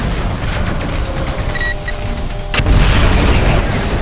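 A target blows up in the Mechwarrior 4 Vengeance video game, a deep booming explosion that swells midway and rolls on loudly over steady mechanical rumble and brief electronic warning tones.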